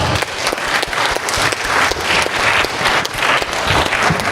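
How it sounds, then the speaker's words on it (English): An indoor audience at a staff orientation breaks into sustained applause, dense loud clapping with light whoops that stays steady from start to finish. "Let's all give him a round of applause."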